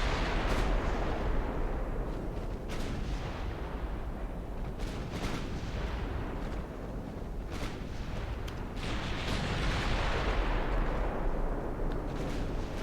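Naval guns of 4-inch calibre fire in Ultimate Admiral: Dreadnoughts, a British 1900 campaign battle, with repeated booming reports over a dense, continuous rumble of battle ambience.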